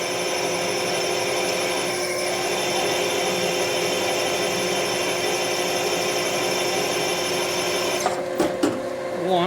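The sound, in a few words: drilling with a 7/16 drill bit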